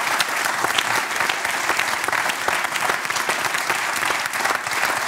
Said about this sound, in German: Ich finde, das verdient einen Applaus.